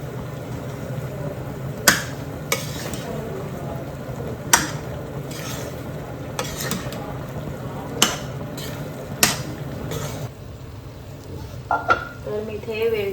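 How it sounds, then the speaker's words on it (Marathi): Dal being stirred and mixed in a cooking pot, with a steady low bubbling bed broken by sharp, irregular clinks and taps of a spoon against the pot, close and moderately loud, no talk. "याच्यामध्ये आपण डाळ टाकली आणि ही मस्त मिक्स करून घेऊया"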